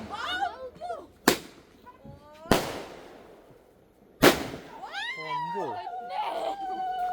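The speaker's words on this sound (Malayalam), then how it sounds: "പടക്കം." Three loud firecracker blasts crack out at uneven intervals during Vishu celebrations, each with a short echoing tail, while children talk and shout around them.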